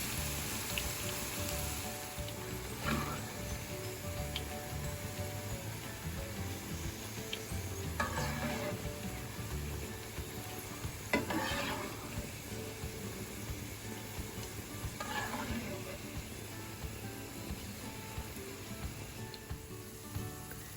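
Celery pieces fry in oil in a pan, producing a continuous close crackling sizzle with occasional louder bursts where the pieces are moved or stirred, no talking.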